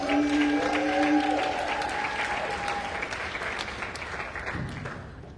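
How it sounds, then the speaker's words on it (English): A large audience applauds continuously, a dense steady clapping that fades gradually toward the end, with a few cheering voices early on. "One more round of applause"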